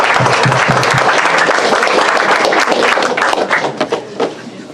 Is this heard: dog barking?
no